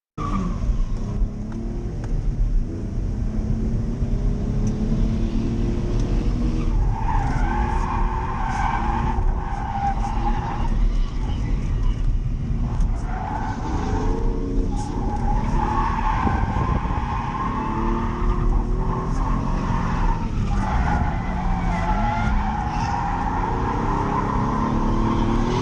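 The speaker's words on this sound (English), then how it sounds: "But here's some more drifting." A car drifting on track, tires skidding and squealing almost continuously over a loud droning engine, with long sustained screeches rising and falling as it slides through repeated turns.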